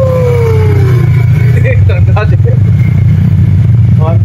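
A Honda Click motor scooter engine hums loudly and close, revving with a low steady drone, while people talk over it.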